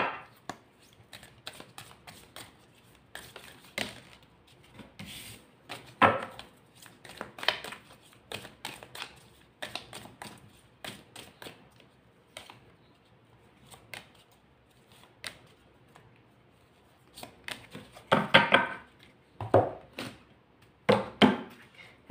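Tarot cards are shuffled and drawn by hand, giving close, dry papery riffles and soft slaps in irregular bursts with quiet gaps, busiest toward the end, with no voice.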